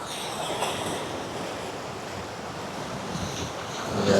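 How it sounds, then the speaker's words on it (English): Strong wind buffets the microphone beside the water, a steady rushing roar mixed with the wash of waves and surf, loud and continuous with no voices. "it's super windy today"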